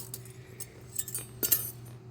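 Spoon tapping and clinking against a plate of mixed chow mein, a few light metallic clicks scattered over a quiet room with a low steady hum beneath.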